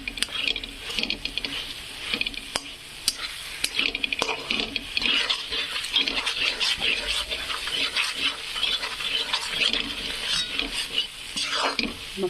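Masala sizzles and fries in a hot pan for a fish recipe, a steady close crackle with occasional scrapes and taps of a stirring spoon, no voices.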